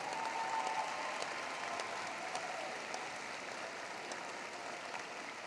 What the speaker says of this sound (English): If you are in the audience, if you would please stand, you definitely deserve a round of applause.